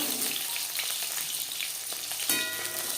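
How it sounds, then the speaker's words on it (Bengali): Bata fish frying in a kadai of hot oil, a close, continuous sizzle with scattered crackles and one louder pop near the end, no voices. "মাছ ভাজা হয়ে গেছে"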